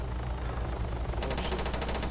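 Automatic gunfire rattles out in Arma 3 with rapid, evenly spaced bursts that start partway through over a steady low background rumble, loud and close.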